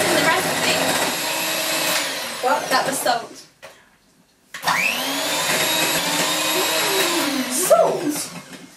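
A loud electric mixer whirs while beating eggs for macarons, cutting out briefly before revving up again, with people talking over it.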